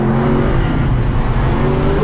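A 2019 Lexus RC F with a naturally aspirated V8 driven hard on a track, a loud, close, continuous engine drone with steady tonal harmonics, no talking over it.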